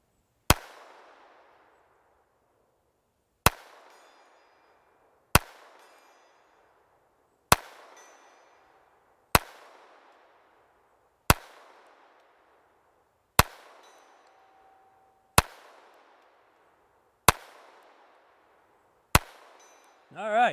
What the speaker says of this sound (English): just for giggles, I'm gonna try to hit that plate at 100 yards